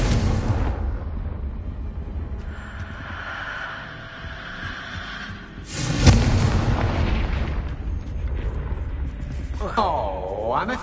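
Bombarda and Confringo spells from Hogwarts Legacy go off as loud booming magical blasts amid steady game noise, with a bigger burst midway and a rising whoosh near the end.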